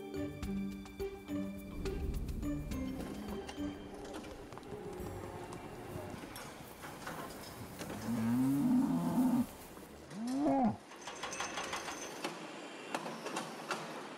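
Dairy cows on a farm in China give two drawn-out moos near the end over a background of clattering farm noise, one long call followed shortly by a shorter one.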